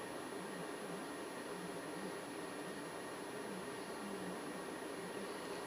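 Heat gun blowing on heat shrink tubing over GSXR 1000 motorcycle wiring, a steady fan whir and airy hiss with a high whine, quiet and unbroken throughout.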